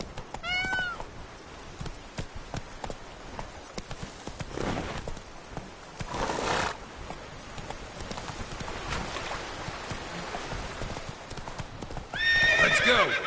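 Roach, Geralt's horse in The Witcher 3, clops along at a trot with steady hoofbeats, whinnying near the start and again at the end, while a softer game ambience carries underneath.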